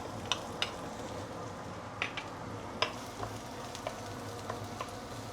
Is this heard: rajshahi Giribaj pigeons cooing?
no